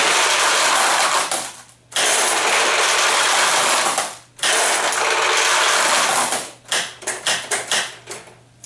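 A Sankyo pachinko machine's mechanism whirs and rattles loudly as balls are released, in long continuous bursts broken by short pauses, ending in quick choppy spurts.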